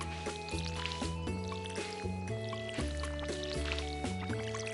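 Crops get watered in the video game Stardew Valley: a run of bright watering-can splash and chime effects, about ten quick repeated sounds over cheerful game music, close and clear.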